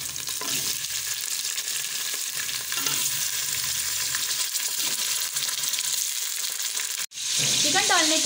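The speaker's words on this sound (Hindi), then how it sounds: "प्याज में हल्का सा ब्राउन कलर आ गया है तो अब हम इसमें ऐड करेंगे चिकन।" Chicken and sliced onions fry in hot oil, giving a loud, steady sizzle throughout; near the end the sizzle cuts out for a moment, then surges back with sharp crackling and a few stirring clinks.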